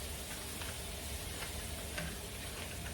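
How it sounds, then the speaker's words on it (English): Kung pao shrimp, some still partly frozen, sizzling steadily in a hot pan while being stirred constantly, a continuous close frying hiss with faint scrapes and ticks of the utensil. "You're going to stir this constantly while it's cooking"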